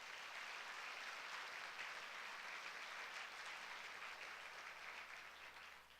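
A church congregation at a Sunday service applauds steadily, a faint, continuous wash of clapping heard from a distance with no talking.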